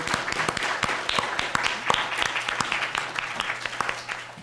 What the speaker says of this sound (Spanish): Un aplauso para Debra.